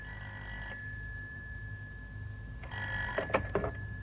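A telephone rings in a radio drama, an electronic two-tone ring heard in two bursts separated by a pause, over a quiet background hum.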